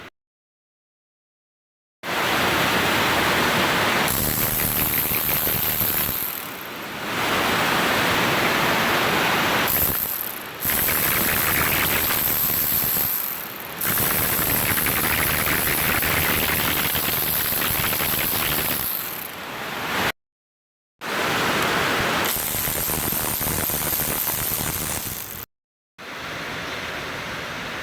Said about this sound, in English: sorry for the rain noise